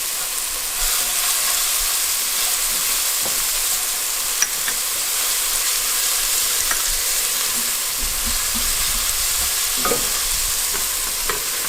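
Garlic and tomatoes sizzling in a hot pan, a loud continuous fry with crackling pops and occasional stirring scrapes, no voices.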